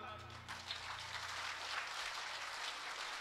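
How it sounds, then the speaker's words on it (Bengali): Audience at a Shyamsundar Das kirtan gathering clapping together: a faint, continuous wash of many hands applauding at a distance, following a brief spoken word at the start. "মারুন দেখি, তালি মারুন।"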